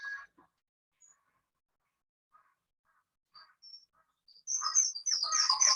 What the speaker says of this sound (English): That's a Bayesian thrush, or maybe even a lyrebird.